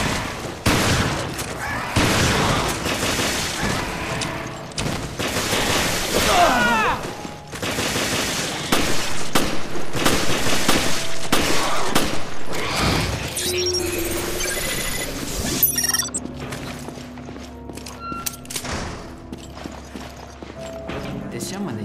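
Gunfire from the Resident Evil Revelations game comes in busy bursts of shots mixed with clanking effects, followed by quieter ambient music and game sounds.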